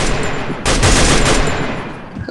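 Sustained, loud burst of automatic fire from an M249 machine gun in a shooting video game, a dense continuous rattle lasting most of two seconds after a brief lead-in.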